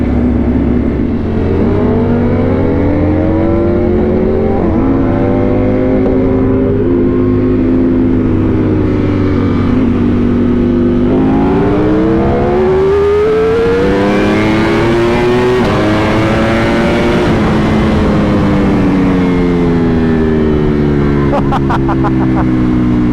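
BMW M 1000 RR and Ducati Panigale V4 R superbikes racing through traffic, engines loud and close, revving hard with rising and falling pitch as they accelerate and shift continuously.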